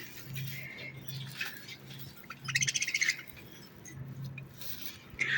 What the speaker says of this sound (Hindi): ये देखिए, ये है हमारे तोते।